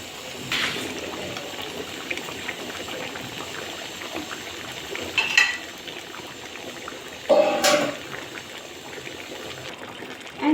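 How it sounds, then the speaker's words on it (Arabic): Potatoes added to tomato sauce at a boil for a tray bake with lamb, giving a steady low bubbling and watery hiss throughout, with a couple of brief louder splashes or stirs near the middle and end. "الطماطم خدت غلوة، انزل في البطاطس"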